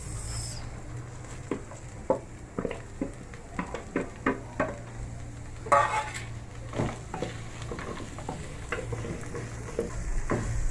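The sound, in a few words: onions frying in oil in a pan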